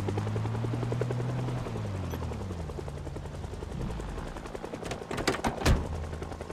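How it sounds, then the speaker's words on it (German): Helicopter in the zombie survival game Project Zomboid, a steady low rotor drone holding through the clip, joined near the end by a burst of sharp cracking shots. "Aber der Heli gibt halt keine Ruhe."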